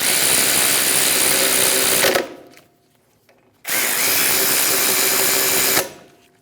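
Two long, loud bursts of a power tool or impact driver snugging the front brake caliper bolts on a 2011-2025 Mitsubishi Outlander, each run lasting about two seconds and separated by a short pause.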